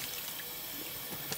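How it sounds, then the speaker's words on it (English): Tap water runs steadily into a sink while a raw Thanksgiving turkey is rinsed inside and out, a soft continuous splashing stream heard alone at low level. "Make sure the water gets inside of it."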